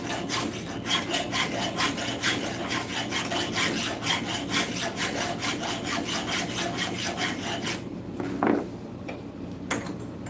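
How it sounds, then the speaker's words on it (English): A metal hand file grinds excess plastic off a part, a steady rhythmic rasping of repeated back-and-forth strokes close by, ending with a few scattered scrapes and knocks. "So what I do is I just grind that off with the file."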